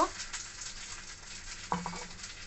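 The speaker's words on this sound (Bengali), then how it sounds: "আর দেবে আট দশটা কাঁচা লঙ্কা ভালো করে এটা আমি ভেজে নেব" Green chillies fry in oil with a soft, low sizzle and a few stirring scrapes, including one sharper clink near the end, with no voices.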